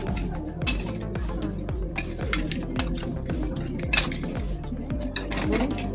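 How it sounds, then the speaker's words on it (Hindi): Spoon mixing spices in a metal bowl or karahi for chicken karahi: rapid, continuous scraping and clinking of utensil against metal, close and busy, with faint sizzling beneath and no speech. "ये देखें इन तमाम मसालों को हम इस तरीके से मिक्स कर लेंगे।"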